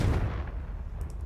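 Bombarda and Confringo spell blasts in the Hogwarts Legacy video game, a booming explosion that decays into a rumbling tail, followed by faint crackling debris.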